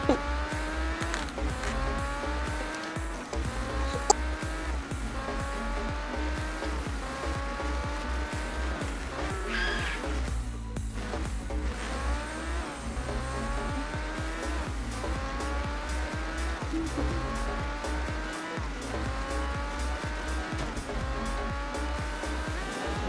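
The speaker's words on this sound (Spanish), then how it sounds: "Nos vamos a subir a un carro." A car in Fortnite drives continuously, its engine revving up and down in repeated gear-shift cycles with squealing tires, loud and steady throughout with no talk.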